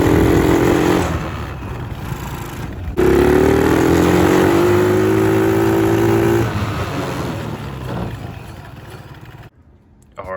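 A $50 mini ATV engine, just revived, runs close by with a buzzy small-engine drone that climbs in pitch as it revs, eases back, then cuts out near the end before a brief restart.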